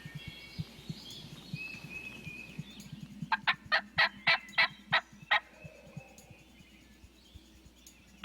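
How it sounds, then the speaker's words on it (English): A wild turkey gobbles in the distance, a rapid rattling series of about eight notes, amid faint birdsong and light rustling. "We just got this bird to gobble."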